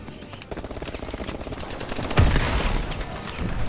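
Rapid automatic gunfire rattles from a Call of Duty match, a fast continuous burst of shots that swells louder near the end with no talk over it.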